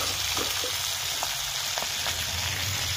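Chicken pieces fry in a pan of hot oil with a steady, dense sizzle and scattered small pops, close and continuous with no talk.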